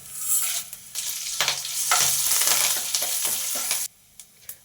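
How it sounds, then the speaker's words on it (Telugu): Garlic and tempering spices sizzle in hot oil in a pan, a steady bright frying hiss with scraping stirs, ending abruptly near the close with a few light clinks. "వెల్లుల్లిపాయలు మంచిగా వేగిన తర్వాత మిగతా పోపు దినుసులు కూడా వేసుకొని ఫ్రై చేసుకుందాం"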